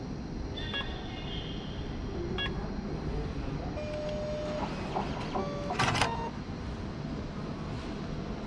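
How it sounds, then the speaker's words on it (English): A self-check-in kiosk at Canberra airport prints a boarding pass, giving off a steady mechanical whir with a few short electronic beeps and tones and a brief louder burst near the end, all over airport hall hum. "As I have no luggage to check in today, I can just use the self-check-in kiosk."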